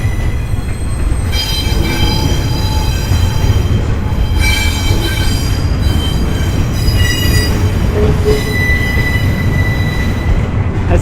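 A train rolls through downtown Miami with a loud, continuous rumble, its wheels letting out long, high metallic squeals that rise and fade throughout as it passes nearby.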